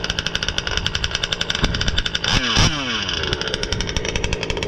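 Small gas engine of a Losi 5B RC car running loud and close, a raspy buzzing drone that revs up sharply in the middle and settles back to a fast steady rattle.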